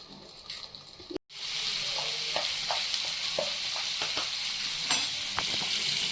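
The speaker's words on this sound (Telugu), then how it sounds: "ఇప్పుడు క్యాప్ పెడుతున్నానండి చూడండి ఇప్పుడు కర్రీ అనేది ఆయిల్లో మగ్గుతుంది" Ivy gourd curry fries in oil in a pan for dondakaya fry, with a loud, constant close sizzle after a short gap, punctuated by light clinks and stirring scrapes.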